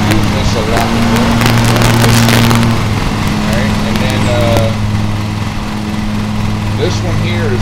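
A riding lawn mower engine runs in Lawn Mower Simulator, a steady droning hum with tonal whine that holds throughout, fairly loud, with a few clicks and interface blips layered over it.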